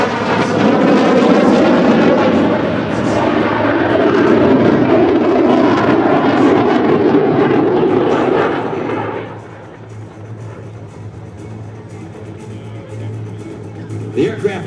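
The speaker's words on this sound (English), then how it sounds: "The aircraft designed and manufactured by Lockheed Martin and Korea Aerospace Industries, specifically built to replace the T-38A." A Lockheed Martin T-50A jet trainer roars past at an air show, a loud broadband jet rush sustained for about nine seconds before dropping away to a fainter, distant rumble as it departs.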